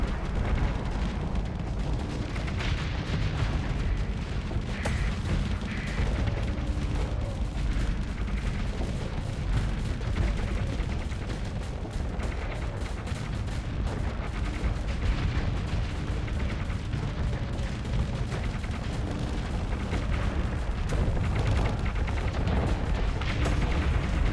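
Missiles detonate in heavy succession during a space battle in a modded Starsector 0.98a game with the Imperium of Man mod, forming a dense, continuous roar of overlapping booms that stays loud throughout.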